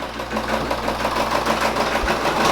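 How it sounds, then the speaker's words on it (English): A Brother Persona embroidery machine stitches a patch design, giving off a fast, even mechanical chatter and hum that runs steadily throughout at close range. "the embroidery machine is going to stitch it out"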